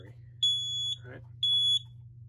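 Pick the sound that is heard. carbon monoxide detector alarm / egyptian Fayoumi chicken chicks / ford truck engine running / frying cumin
carbon monoxide detector alarm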